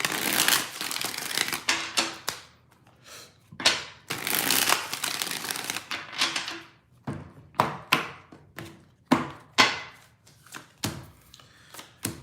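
Tarot cards being shuffled in a run of crisp riffling bursts, first long and dense, then a series of short separate snaps and taps, close and fairly loud with no talk.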